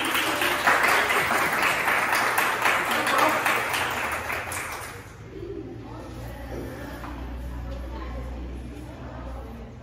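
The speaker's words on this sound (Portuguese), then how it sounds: "Cadê as palmas? Cadê essas palmas?" A church Bible class audience claps loudly and densely for the first half, then the applause fades into quieter room noise with a low hum and voices.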